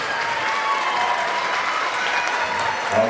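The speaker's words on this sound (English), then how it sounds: "Let's give one more round of applause for our Lieutenant Portrait winners." Loud, sustained applause from a crowd of families at a school awards ceremony, continuous dense clapping heard up close with no speech over it.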